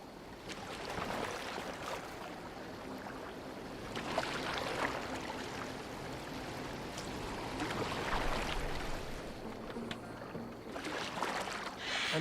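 Boat steered on water in Assassin's Creed Valhalla, continuous splashing and washing of water against the hull, steady and moderately close, swelling slightly at moments with no talking.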